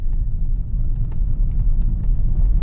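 Audi RS5 Sportback rolling onto rough Belgian pavé cobblestones, a steady loud low road rumble with faint rattling bumps and no talk.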